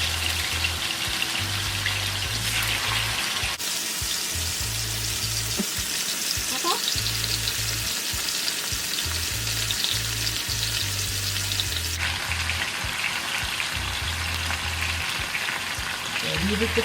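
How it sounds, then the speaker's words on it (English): Chicken pieces fry in oil in a pot for a Jamaican fricassee, a loud, continuous crackling sizzle with a low rhythmic hum pulsing underneath throughout. "Leave it to fry, and when one side is fried, we turn over and fry the other side."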